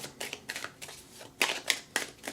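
Tarot cards are shuffled in several quick, crisp riffling bursts, soft and close, with short pauses between them and no talking.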